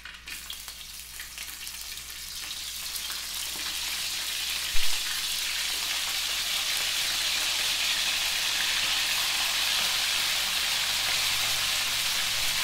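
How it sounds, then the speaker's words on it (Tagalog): Tambakol tuna fries in hot cooking oil, a dense, steady sizzle like heavy rain. It swells louder after a single soft knock partway through and keeps up a constant hiss with no talking. "First step na gagawin natin ay ipiprito muna natin ang isdang tambakol."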